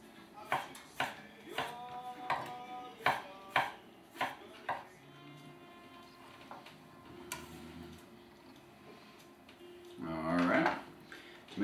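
A knife slices tomatoes on a cutting board, a run of sharp, evenly spaced chopping knocks, then quieter handling and a brief clatter near the end, close and clear.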